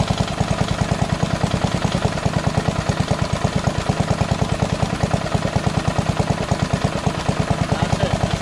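A lawn tractor engine with a Chinese copy Nikki carburetor idles at its lowest setting, a steady low rapid chugging throb with faint clatter, close and continuous throughout.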